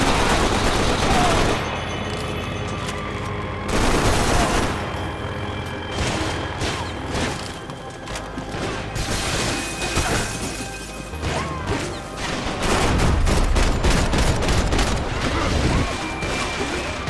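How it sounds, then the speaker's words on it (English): Gunfire in the video game Max Payne 3: dense, repeated bursts and rapid shots fill most of the passage with loud crashes and impacts mixed in, and brief talk appears here and there. "I like that he's shooting the one in his right hand."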